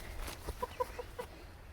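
Chickens in a pallet-built coop cluck softly nearby, a quick run of three or four short tonal clucks amid faint background rustle.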